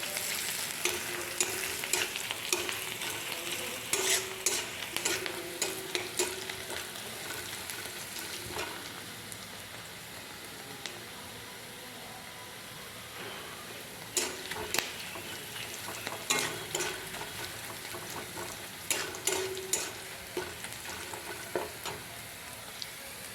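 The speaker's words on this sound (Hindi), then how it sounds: "पियाज लाल दिशा पर्यंत भाजबा।" Onions frying in oil until browned for a fish curry, a low continuous sizzle with bursts of stirring and utensil scrapes over about twenty seconds.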